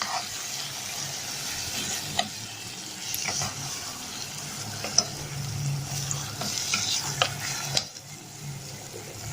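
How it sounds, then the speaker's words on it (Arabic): Onion and meat sautéing in a pan, seasoned with black pepper and spices, give a steady close sizzle with occasional stirring clatters and scrapes throughout. "وهنشوح البصله مع اللحمه كده"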